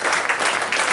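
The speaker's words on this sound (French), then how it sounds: "Vous pouvez l'applaudir bien fort" Dense audience applause, loud and continuous for a moment, with no voices rising above the clapping.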